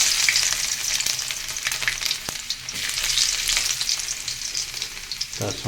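Chopped garlic frying in hot oil with dry red chillies and five-spice seeds, a steady, dense crackling sizzle close by, with occasional stirring scrapes and no talking.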